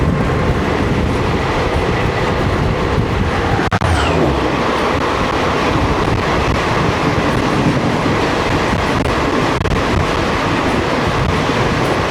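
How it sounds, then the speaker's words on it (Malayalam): Jodhpur Superfast train rushing past a station, loud and close, with a continuous roar of wheels and rattling carriages for the whole stretch. "ജോധ്പൂർ സൂപ്പർ ഫാസ്റ്റ് വരുന്നത്."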